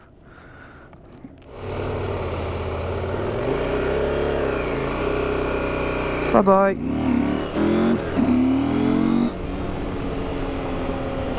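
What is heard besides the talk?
KTM 690 motorcycle riding off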